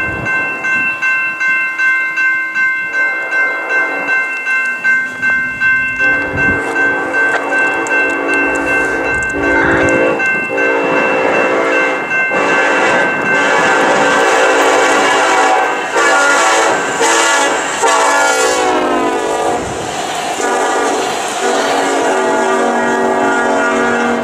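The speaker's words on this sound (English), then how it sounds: "our next train features this unique engine as it powers a short passenger train west through Tama" Union Pacific 1943 locomotive hauling a short passenger train west through Tama, Iowa: a loud, steady horn sounds in long blasts over the rumbling, clattering train, building as it passes close by.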